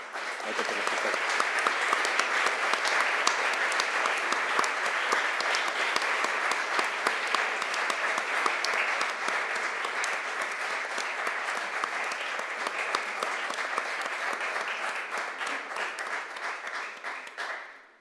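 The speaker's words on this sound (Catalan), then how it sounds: "donar-li un fort aplaudiment com a agraïment a tot el que fem" Sustained applause from a large crowd at an awards ceremony, dense and steady for the whole stretch, fading out only at the very end.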